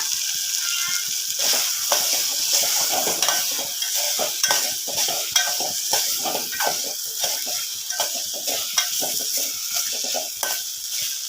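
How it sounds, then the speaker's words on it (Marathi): Peeled boiled eggs sizzle and fry in a spice masala while being stirred, with a steady close crackle and repeated scraping of the spoon against the pan throughout, and no talking. "आता ह्या मसाल्यात ही अंडी चांगली परतून घ्यायची"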